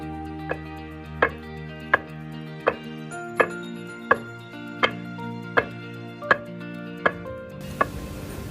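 Food being pounded in a mortar with a pestle in Ghana: about a dozen sharp, woody thuds land in a steady, even rhythm, close and clear with no voices.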